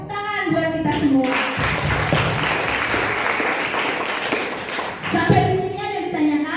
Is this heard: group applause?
yes